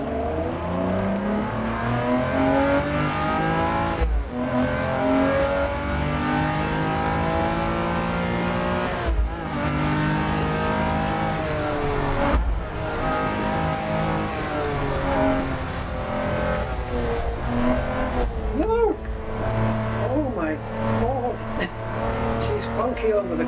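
A car engine in the racing game Assetto Corsa EVO revs steadily while the car does donuts, loud and continuous with pitch swells and brief throttle cuts, tires squealing near the end as someone talks over it.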